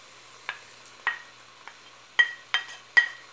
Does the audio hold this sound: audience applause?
no